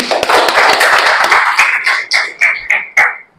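Applause from an audience at a marketing plan presentation, a loud burst of many hands clapping that thins into a few separate claps before stopping.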